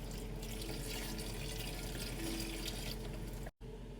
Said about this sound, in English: Next, we're going to add a quart of beef broth.